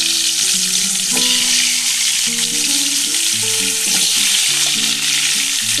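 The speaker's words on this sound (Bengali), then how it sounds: "এবার আমি আলুগুলো ছেড়ে দিচ্ছি।" Potatoes slide into hot oil for a mutton curry, and a loud, continuous close-up sizzle fills the scene, with faint melodic tones underneath and no speech.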